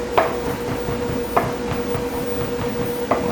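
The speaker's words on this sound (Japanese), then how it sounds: "できるだけ細かく刻みます。" A chef's knife chops cooked peas finely on a cutting board, three spaced, fairly loud thuds landing over a steady kitchen hum.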